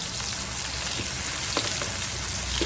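Shallots fry in a pan for a Thai egg dish with a dense, loud, continuous sizzle and a few faint crackles, heard alone.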